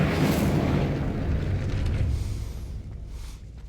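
The Incendio fire spell from Hogwarts Legacy erupts as a strong fiery burst with a deep rumbling roar, holding for about two seconds before tapering off.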